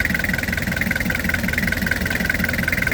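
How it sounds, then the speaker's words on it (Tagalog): Engine of a 2003 Nissan Super Grandia van idling with a steady, even rhythmic chug and a mechanical whine, recently fitted with a new timing belt, heard up close and loud with no talking. "makina ng ating Super Grandia"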